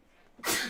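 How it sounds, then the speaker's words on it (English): A single sudden sneeze from a man, close and loud, bursting after a quiet moment and trailing off briefly. "And he sneezes."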